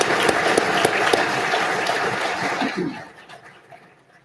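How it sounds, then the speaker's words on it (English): A crowd applauds a graduating corrections pre-service academy class at a ceremony, with dense sustained clapping that thins out and fades over the last second or so. "Let's give them another round of applause for their perseverance and determination."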